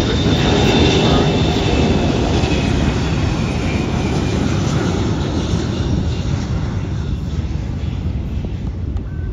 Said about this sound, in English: it is the KC-135 spooling up. It's rolling down the runway